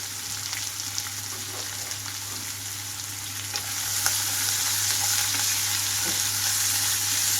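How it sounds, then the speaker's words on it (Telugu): Chopped onions sizzle loudly in hot oil for an egg pepper curry, a continuous crackling hiss with occasional scrapes of stirring that grows slightly louder midway. "కట్ చేసి పెట్టుకున్న ఉల్లిపాయలు వేసేస్తున్నాను."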